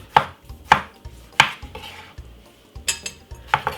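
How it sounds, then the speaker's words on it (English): Knife chopping half a tomato finely on a board for jerk king prawn with stir-fried spinach, a series of sharp, fairly close taps spaced irregularly with short pauses, heard alone without talk. "I got a half of a tomato which I'm gonna be using. Cut it up very small"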